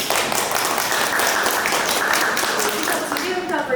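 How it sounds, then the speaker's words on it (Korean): Audience applause at a group art exhibition talk, a steady wash of clapping that fills the whole stretch at even loudness, with voices mixed faintly underneath. "박수 한번"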